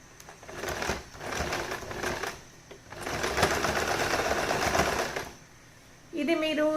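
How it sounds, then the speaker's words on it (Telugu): A sewing machine stitches a fabric scrunchie with a fast, even whirring in two long runs separated by a brief pause, close up, and a voice comes in at the very end. "ఇప్పుడు దీన్ని స్టిచ్ చేసేద్దాం."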